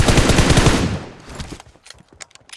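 A rapid, loud burst of automatic gunfire in PUBG Mobile, then it tails off into scattered, quieter single shots.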